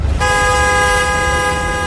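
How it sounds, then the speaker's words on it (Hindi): A car horn blares in one long, steady, loud honk, close by, sustained right to the end. "सब लोग अगर कार के बाहर खड़े थे तो फिर ये हॉर्न कैसे बजा"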